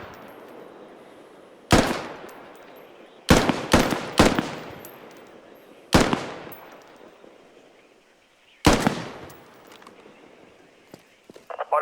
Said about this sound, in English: The best way for you to shoot is in single shots. Take a moment between each shot